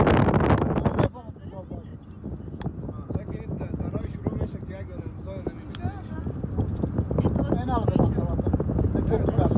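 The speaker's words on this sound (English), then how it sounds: "if you can hear that sound of wind" Strong, bitterly cold wind gusts across the open desert hillside at the Buddhas of Bamyan site in Afghanistan, a loud rough roar buffeting the microphone throughout with no letup.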